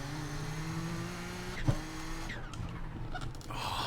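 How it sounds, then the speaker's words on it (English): Audi 90 GTO race car driven in iRacing: a steady engine drone, then a sharp single pop and a short airy hiss from the turbo blow-off valve, followed by more turbo whooshing. "that blow-off valve sound is so cool"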